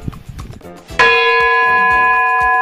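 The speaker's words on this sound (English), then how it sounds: "That sound you heard is the bell." A summer camp bell rings once loudly and keeps ringing out with long sustained tones, following quieter rustling and footsteps, calling campers to gather at the flagpole.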